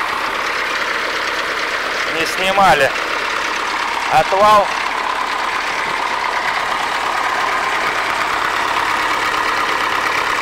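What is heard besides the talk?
tractor engine idling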